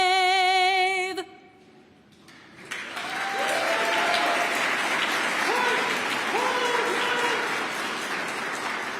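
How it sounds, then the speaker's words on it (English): Audience applause at a Veterans Day breakfast reception right after the national anthem, rising after a brief hush and holding steady, with faint whistles or cheers mixed into the clapping. "Let's give one more round of applause for our Air Force Color Guard and for Staff Sergeant LaCour."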